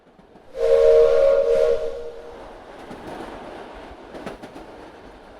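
A steam train whistle sounds one long, loud, steady blast, followed by the fainter rumble and clatter of the train rolling slowly past, with a few light metallic clanks near the end.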